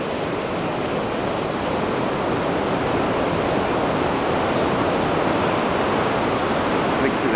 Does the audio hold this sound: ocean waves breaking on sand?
yes